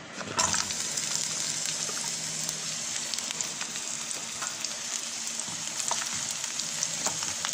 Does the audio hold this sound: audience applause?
no